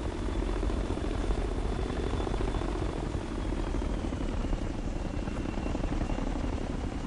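A helicopter in the video game Ghost Recon: Future Soldier makes a steady, loud rotor roar and engine drone that holds without a break from start to finish, with no voices over it.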